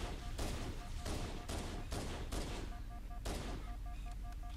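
Gunfire in Halo: The Master Chief Collection, with loud repeated bursts of weapon fire at a steady pace and short beeping game tones between shots.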